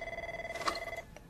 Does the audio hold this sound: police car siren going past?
no